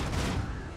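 A ship's macro cannon fires in Warhammer 40,000: Rogue Trader, a brief, dense, rumbling burst of heavy gunfire that fills the moment and fades slightly, with no talking.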